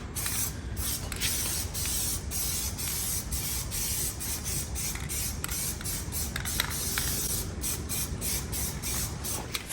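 A spray can lays a light top coat on the mower deck of a John Deere D120 lawn tractor being restored, a loud, steady, close hiss broken by short pulses as the nozzle is pressed, with no talking.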